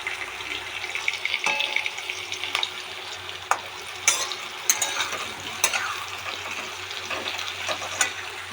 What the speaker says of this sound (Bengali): যে আলু ভাজা করছি এখন।